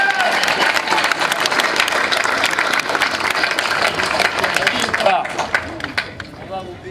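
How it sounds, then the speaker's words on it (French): Lively applause from an audience at a priest's sermon gathering, dense clapping with crowd murmur, loud and close, easing off in the final seconds as voices come through. "Applaudissez Chantal."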